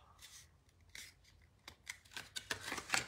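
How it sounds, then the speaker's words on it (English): Scissors cut a piece of material in half, giving a quiet series of short snipping and rustling strokes that speed up and grow louder toward the end. "this needs to be cut in half"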